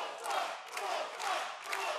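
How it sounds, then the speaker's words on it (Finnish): Fired-up crowd at a mixed martial arts event roaring and shouting in surging waves, fairly distant and moderately quiet, swelling and easing roughly every half second with no clear voice in front. "Kannustus on todella raivokasta."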